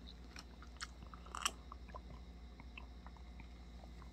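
Soft pieces of peach, fished out of homemade peach nectar made from leftover peels and trimmings, are chewed close up with quiet, irregular bites and crunches in a hushed room.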